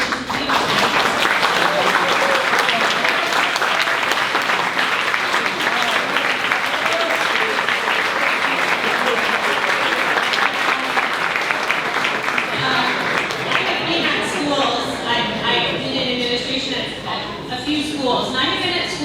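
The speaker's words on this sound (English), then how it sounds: "so that we can give them a big round of applause" Sustained applause from a banquet audience honoring the coaches at a Villanova athletic banquet, a thick continuous roar of clapping that thins slightly near the end as voices start to come through.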